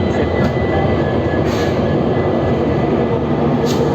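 The Kolkata–Silghat Town Kaziranga Express passing at night, hauled by a WDP4 diesel locomotive: a loud, steady rumble of rolling wagons with faint wheel clatter, close by and continuous, no voices.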